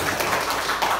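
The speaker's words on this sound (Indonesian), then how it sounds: "Ya, silakan tepuk tangan." Audience applause at an evaluation event, a short burst of brisk overlapping hand claps, faint and even throughout.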